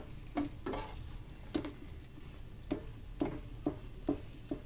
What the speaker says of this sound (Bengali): একটা একটা করে সুন্দর করে লাল লাল করে ভেজে নেব।